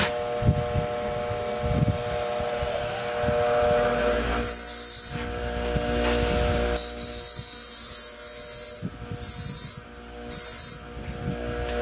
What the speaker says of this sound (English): we're going to hit it with a grinder first, and I'm going to grind off just that lip that's been around